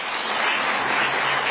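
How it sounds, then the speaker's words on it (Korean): Applause fills a memorial meeting with bereaved families for victims of the Jeju April 3 incident, a loud, dense crowd clapping that holds steady throughout without talk. "그에 화답하는 박수 소리에 진심으로 가슴이 뭉클합니다"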